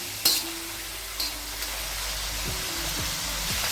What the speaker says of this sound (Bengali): লোতে রেখে আস্তে আস্তে ভেজে নিতে হবে